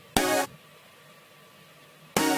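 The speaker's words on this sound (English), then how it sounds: "Really edgy synth." An edgy synth dance lead from a K-pop track plays in two short bursts, one at the start and one at the end, with quiet low hum and a gap between them.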